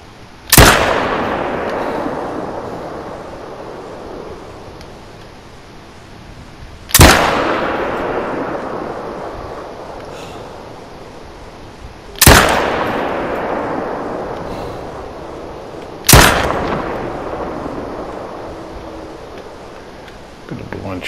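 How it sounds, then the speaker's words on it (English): Rifle shots from hunting in theHunter: Call of the Wild during a wildebeest herd hunt: four loud, sharp shots spaced several seconds apart, each with a long rolling echo decaying across open terrain. "Bit of blind shooting there."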